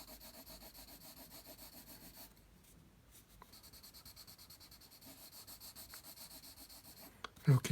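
Steady rubbing strokes of a drawing tool coloring a cherry tree sketch on paper, a quiet repetitive scratch that pauses briefly midway, then resumes, with a louder knock near the end.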